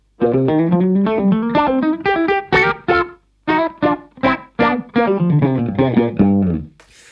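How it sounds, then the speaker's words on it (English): GFI System Rossie envelope filter pedal set to its combined low-pass and high-pass mode, a distorted instrument line with a vocal, wah-like quack sweeping each note in quick phrases, loud and close, no talking. "the last filter mode is the low-pass and the high-pass filter together"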